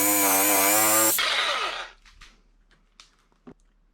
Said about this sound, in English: I just had a jigsaw on hand, so it makes life a lot easier